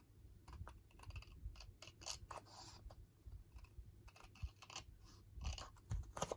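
Sticky, tacky scissors snip paper for craft pockets in quick crisp crunching cuts, irregular bursts of close, quiet snipping and rustle with no talk.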